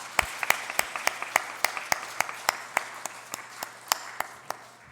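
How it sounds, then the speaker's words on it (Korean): A church congregation claps during an Easter Sunday worship service, the sharp claps coming in a loose, fairly regular rhythm of distinct strikes over a quiet room with a faint low hum. "우리 하나님 앞에 영광의 박수 한번 올려드릴까요?"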